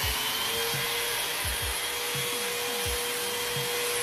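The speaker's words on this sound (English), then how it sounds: "It's easy to see surfaces while you sand them using this light-up sander" A light-up sander with 360-degree LED lights works across a wall, giving a steady close-up whirring hum with rhythmic low scraping strokes of the pad against the surface throughout.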